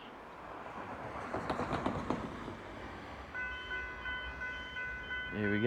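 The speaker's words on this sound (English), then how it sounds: "That train's just actually coming in now" A suburban train pulls into Riversdale station with a rising rumble and clatter, then steady warning bell tones ring out as it comes in; a faint voice is briefly heard.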